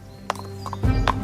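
The king's horse approaches with hooves clip-clopping in a quick, uneven rhythm, growing louder and heavier near the end with a low thudding rumble.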